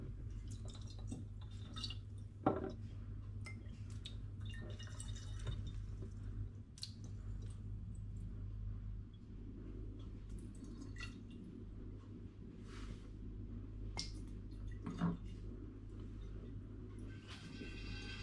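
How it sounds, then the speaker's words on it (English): Liquid gurgles and drips through a siphoning tube while bottles of passion fruit hard seltzer are filled, a steady low hum underneath with occasional soft bubbling pops and drips scattered across the recording. "there we go, bubbles in the siphoning tube"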